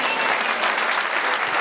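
A church congregation claps loudly and steadily during a Spanish-language worship service, a dense wash of hands with no pauses.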